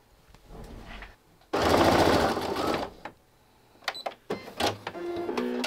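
Sewing machine stitching a quilt shop hop block, a loud, close mechanical whirring burst lasting over a second, followed by short stop-start runs of stitching and faint clicks.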